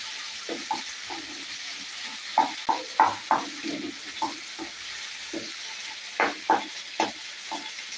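Green chilli frying in a pan while being stirred, a soft background sizzle broken by repeated scraping strokes of a spoon at an uneven rhythm.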